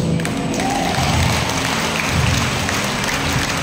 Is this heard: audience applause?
yes